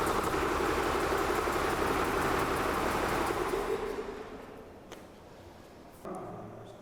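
An MD P-88 engine with a pneumatic governor idles at adjusted idle speed, a steady mid-low hum that holds close and even before fading down and dropping off after a few seconds.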